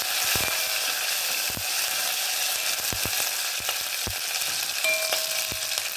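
Curry leaves fry in hot oil for a drumstick and eggplant masala curry, a continuous close crackling sizzle with scattered sharp taps from stirring.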